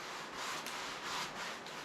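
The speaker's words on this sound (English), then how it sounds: "Now I'm going to wipe them down with a little bit of mineral spirits." Cloth rubs back and forth over a roughened, sanded truck camper surface as it is wiped down with mineral spirits, giving close, steady swishing strokes in a quick rhythm.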